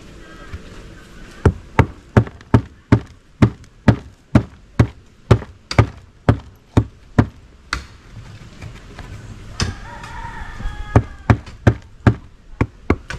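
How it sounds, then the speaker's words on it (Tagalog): A hammer pounds a nail with about twenty sharp, evenly spaced blows, loud and close, pausing briefly midway before another quick run of strikes, with faint voices in the background. "Ipako mo yan, yung ano, tapos angatin mo ng yung martilyo."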